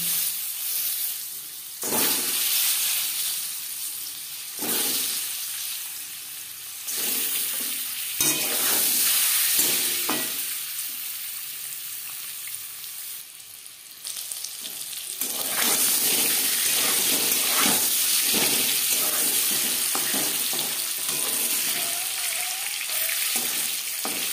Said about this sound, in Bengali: ডিম লালচে করে ভাজা হয়ে গেছে